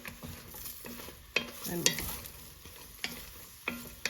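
Big king oyster mushrooms sizzle in a hot pan while a utensil stirs and scrapes them, giving a soft frying hiss broken by periodic clacks and scrapes, close and fairly quiet.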